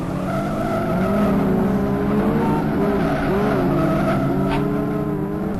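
Touring race cars in a sim racing game scream past down a tarmac straight, engines droning loud and continuous with shifting pitch and tire squeal mixed in, with no talk over it.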